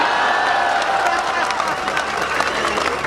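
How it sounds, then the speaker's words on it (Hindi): A comedy show audience breaks into loud, steady applause with some crowd noise, a close, continuous wash of clapping under a speaking voice. "आप सबकी एक साथ तालियां चाहता हूं"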